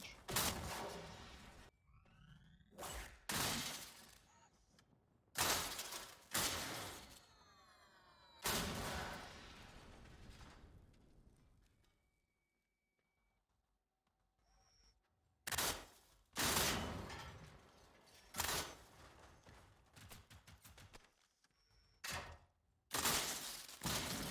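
Bursts of automatic gunfire from hostile machines in the video game Generation Zero crackle in repeated loud volleys, separated by short quiet gaps and lighter electronic tones.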